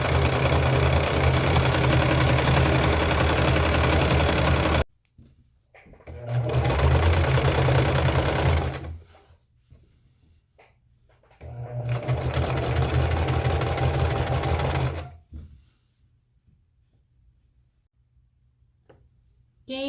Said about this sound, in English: Okay, let's get sewing.